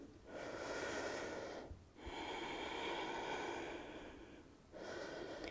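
Slow, deep breaths during a prenatal workout, two long airy inhale-exhale cycles, each separated by a brief pause, close and soft.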